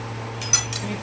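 A spoon stirs sugar into mango pieces in a metal pot on a gas stove, giving a couple of brief metallic scrapes and clinks over a steady low hum, close and fairly quiet.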